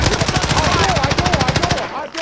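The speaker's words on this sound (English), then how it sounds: "I put some bullets in him." Rapid automatic gunfire from a firefight in the video game Call of Duty Warzone, a dense, loud rattle of shots lasting about two seconds before cutting off, with a voice speaking faintly underneath.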